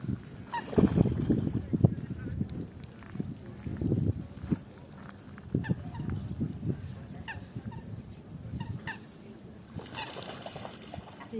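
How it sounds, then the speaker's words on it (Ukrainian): Waterfowl honk and call near a spring lakeside where people are swimming, the calls recurring over ambient outdoor bustle and splashy background noise. "Качечки."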